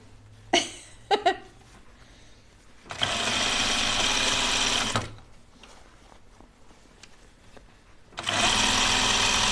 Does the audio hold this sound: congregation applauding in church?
no